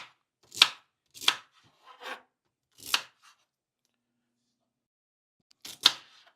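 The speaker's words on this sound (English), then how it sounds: "I'm cutting this celery up." A knife chops celery on a cutting board in five sharp, separate strokes with quiet pauses between, close and crisp with no talking.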